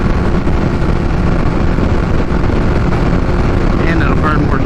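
A Kawasaki Ninja H2 with a Vandemon exhaust rumbles at low RPM, a continuous loud engine drone mixed with wind rush, riding steadily with no break.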